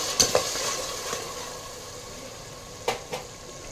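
Tomato and onion puree sizzles in oil in a pan, a steady soft hiss with a few sharp scrapes and taps of a spoon stirring near the start and end.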